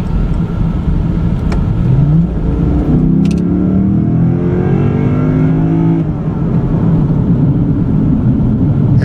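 A 2013 Lexus IS F sports car accelerates hard, its engine note climbing steadily in pitch through the gears, loud and close from inside the cabin with no talk over it.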